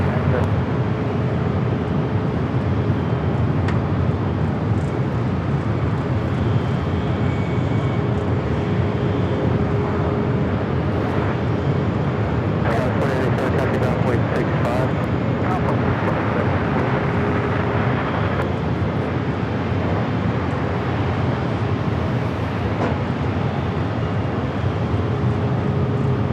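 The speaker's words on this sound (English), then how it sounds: "Kind of a lineup of takeoffs here on the north." Aircraft taking off from the north side at LAX airport, a broad continuous engine roar that stays steady and fairly loud for the whole stretch, with no voices.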